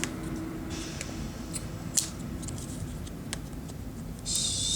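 The small scissors on a Leatherman Juice XE6 multi-tool being opened and worked, giving a few sharp metallic snips and clicks over a low, steady background hum.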